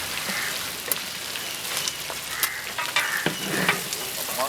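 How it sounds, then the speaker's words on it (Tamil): Onions sizzling as they sauté in a pan for vegetable biryani, a close, continuous frying crackle with occasional stirring scrapes and spatters. "வெங்காயம் நல்லா வதங்கிருச்சு"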